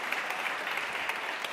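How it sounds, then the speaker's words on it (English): Audience applause at a gathering, a brief even burst of clapping from a crowd, steady and moderately distant. "But can we just give a round of applause to Alicia Okeo Atmore,"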